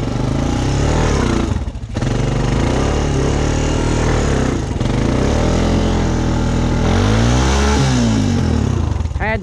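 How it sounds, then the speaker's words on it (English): A vehicle engine revs hard and roars continuously on a mud ride, pitch rising and falling as the tires spin in deep ruts, loud and close throughout. "I had to spin the tires a bunch just one time."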